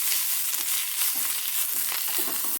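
Vegetables briefly sautéed in hot oil in a pan for vegetable dosa give off a steady, close, loud sizzle with soft stirring scrapes throughout.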